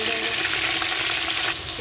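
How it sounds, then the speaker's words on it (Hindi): Chopped onions frying in olive oil, a dense continuous sizzle and crackle, close and steady throughout with no voices. "अब मैं इसमें थोड़े कटे हुए प्याज डालूँगी।"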